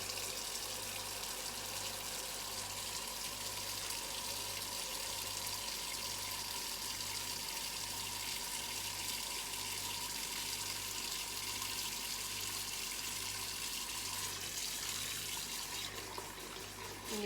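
Warm tap water runs steadily into a bowl of lettuce soaking with dish soap or salt, a constant faint splashing hiss with no pauses and no talking.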